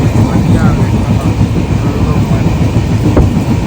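A long-distance passenger train rolls through a village in Maharashtra, heard from inside as a loud, continuous rumble with steady wheel clatter and no pauses.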